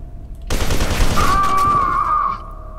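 Enemy gunfire in the F.E.A.R. 2 video game, a loud dense burst of rapid shots lasting about two seconds, with a sustained metallic ringing tone over the end of the volley.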